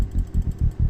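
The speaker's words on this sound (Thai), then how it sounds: "ถ้าจิ้มก็จะได้ยินเสียงเบสนี่เป็นเสียงเบส" A deep synthesized bass note from a sampler pulses repeatedly in low, booming bursts, about five even throbs in under a second, with no voices.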